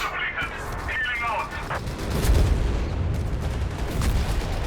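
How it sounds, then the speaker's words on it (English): A Luftwaffe strafing run in Company of Heroes 3, with rumbling gunfire and booms building mid-way and continuing under steady talk. "we got the Luftwaffe calling in a strafe from 1 or 2 here"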